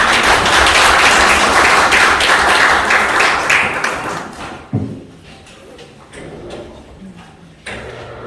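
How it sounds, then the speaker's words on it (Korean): Applause from an audience at a Korean political academy graduation ceremony, loud and dense for about four and a half seconds, then fading into scattered claps and room noise. "큰 박수로 맞이해 주시기 바랍니다"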